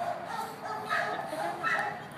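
A female dog gives a few short, close barks and yips in quick succession, bright and somewhat muffled, in a brief burst with no voices over it.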